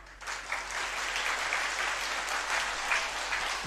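A crowd at a religious gathering claps steadily and densely for a few seconds, a close, even wash of applause with no voices on top.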